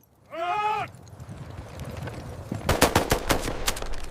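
Dramatized rifle gunfire in a massacre scene erupts as a rapid burst of sharp cracks near the end, after an animal bleat and a low, rumbling background.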